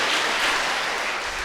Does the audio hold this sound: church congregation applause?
yes